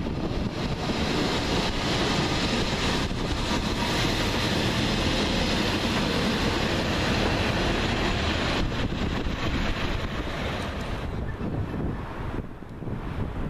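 A British Rail Class 144 diesel train rumbles into Huddersfield station steadily with heavy broadband noise and wind buffeting, continuous and loud throughout, easing slightly near the end.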